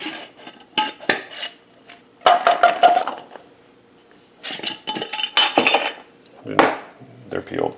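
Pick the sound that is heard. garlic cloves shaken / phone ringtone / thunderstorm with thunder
garlic cloves shaken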